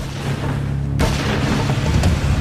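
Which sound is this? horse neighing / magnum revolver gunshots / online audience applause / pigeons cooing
magnum revolver gunshots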